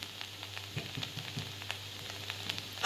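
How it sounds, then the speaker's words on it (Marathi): Bharanga, a wild leafy vegetable, frying over a low flame with a soft, steady sizzle and occasional faint stirring clicks, close and fairly quiet throughout. "मंद आचेवर भाजी चांगली भाजून घ्यायची"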